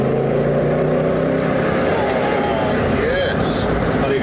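Mercedes SL63 AMG V8 with the roof down, driving through a tunnel in Spain, its engine a steady loud rumble throughout, with voices talking over it.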